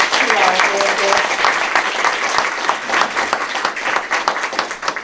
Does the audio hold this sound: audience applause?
yes